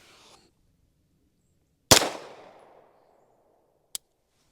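A Staccato HD P4 pistol fires one sharp, loud shot that rings out and decays over about a second, followed a couple of seconds later by a brief, fainter metallic click or snap, with no talking.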